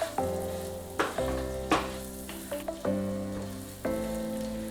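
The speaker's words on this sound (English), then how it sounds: "That's why I am frying the eggs to the golden brown." Eggs frying to golden brown in a pan for a dhaba-style egg masala, giving a steady close sizzle with a few sharp clinks and bursts throughout.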